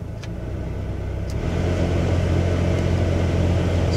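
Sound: rumbling blower motor fan in Chevy Express van

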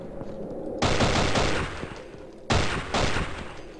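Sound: pistol gunfire in video game Afraid of Monsters

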